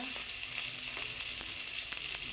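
Spice paste of ground cumin and ginger with tomato frying in oil sizzles loudly and evenly up close, with faint crackles and no voices.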